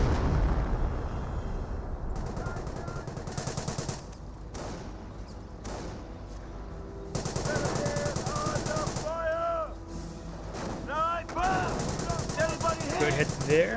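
Heavy machine-gun fire and explosions from an artillery barrage in Company of Heroes 1, dense and rumbling, under a commentator's continuous speech.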